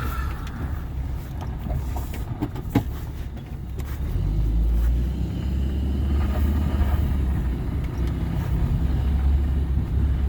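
Steady turbocharged engine rumble from inside a moving car on a test drive, a low continuous drone that swells slightly partway through, with occasional faint clicks.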